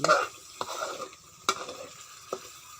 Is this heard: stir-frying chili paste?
yes